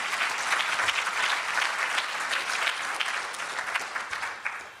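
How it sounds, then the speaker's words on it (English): A conference audience at an R Finance event claps steadily for the sponsors, a dense, even wash of applause that holds for several seconds before tapering slightly at the end. "Let's have a nice round of applause for those guys for helping make this all possible."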